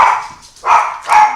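A small Morkie dog barks close by, three sharp yaps spaced about half a second apart with no other sound between them.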